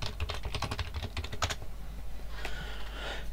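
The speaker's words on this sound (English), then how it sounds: "Type something into the chat thing." Quick bursts of typing on a computer keyboard into a chat window, close and fairly quiet, with a rapid run of keystrokes followed by a pause and a few more clicks over steady background hum.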